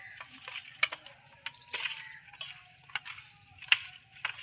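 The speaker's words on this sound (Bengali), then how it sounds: "আমি একটু সরষের তেল নিয়ে এই সরষের তেলটাও পাবদা মাছের মধ্যে খুব সুন্দর করে আমি মেখে নেব" Hands work mustard oil, salt and turmeric into raw pabda fish, giving soft, wet squelching and slippery rubbing sounds in irregular bursts, close and fairly quiet.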